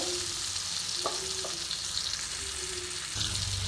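Green tomato fries in a pan for a shrimp curry, a steady close sizzle with light spoon taps and scrapes.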